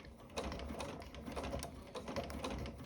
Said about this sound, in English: the best thing you can do is just sew really slowly